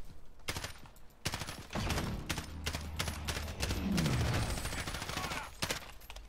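Gunfire in the Call of Duty Warzone video game crackles in sharp bursts of shots with short gaps between them, loud and close, and no one speaks.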